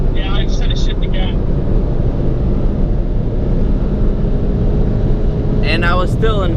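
Engine drone from a car pulling hard in fourth gear during a roll race between a Civic Type R and an MK7 Jetta GLI, a steady loud roar filling the cabin, with brief voices near the start and end.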